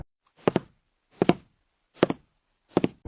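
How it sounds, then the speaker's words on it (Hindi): Footsteps in a horror story land in four evenly spaced double thuds, each one a heel-and-toe pair, with silence between them. The steps are close and fairly quiet, and no voice speaks over them. "किसी के चलने की आवाज आने लगी।"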